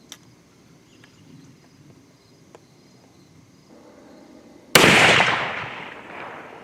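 A break-action gun with a 24-inch Bugera barrel fires one loud, sharp shot after a quiet stretch of insects chirping outdoors, and the blast rings out and decays over a couple of seconds.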